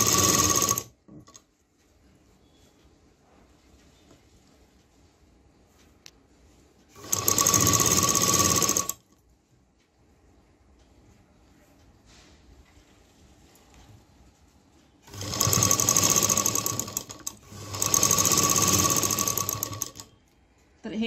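Electric sewing machine stitching the cup of a blouse sleeve, with three loud, fast whirring runs of stitching separated by quieter stretches of handling and talk.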